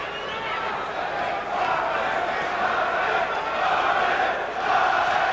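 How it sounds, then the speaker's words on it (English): A boxing crowd at a Marvin Hagler fight chants rhythmically and roars in a steady, dense wash that builds slightly, with commentary over it. "Crowd starts to chant Marvin, Marvin."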